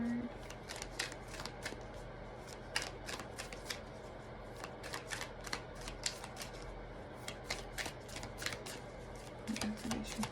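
Tarot activation cards riffled and shuffled by hand, a steady run of quick crisp snaps and flutters close by.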